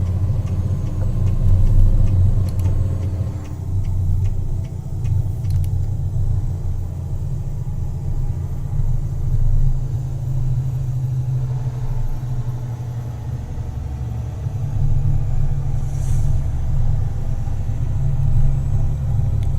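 A heavy truck engine rumbles steadily in a trucking simulator, a deep continuous low drone that swells slightly at times, with faint clicks and no talking.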